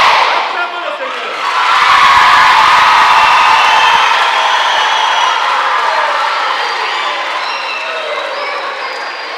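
Congregation at a thanksgiving church service in Kinshasa cheering and acclaiming together, a loud sustained crowd roar that swells after the first second and stays dense, slowly easing toward the end.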